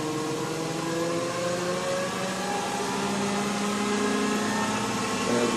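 The electric motor of an electric-converted BMW E31 840Ci spinning up toward 1000 RPM, a smooth, steady whine with rising tones over a constant whir, loud and near, with no talking.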